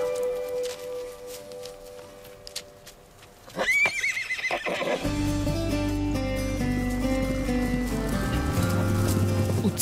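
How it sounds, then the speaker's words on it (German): A purebred Arabian horse on a remote farm in Thurgau, Switzerland, lets out one loud, close whinny that sweeps up and trails off, followed by a dense, steady layer of farmyard sound. "Genau gesagt, Vollblut-Araber."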